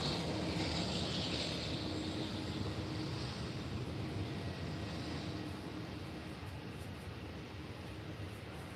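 An Emirates Airbus A380 passes at an airport during early morning planespotting, a steady broadband engine roar at moderate distance that slowly fades, with no talk over it.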